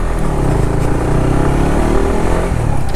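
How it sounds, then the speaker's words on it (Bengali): A 2021 Honda CBR 150R motorcycle with dual-channel ABS gives off a steady, loud, close exhaust note with a throbbing low rumble, heard alone without talk. "অ্যান্ড কোনো একটা বাইকের সাথে এই বাইকের এক্সস্ট নোটের সাউন্ডটা কিছুটা মিলে"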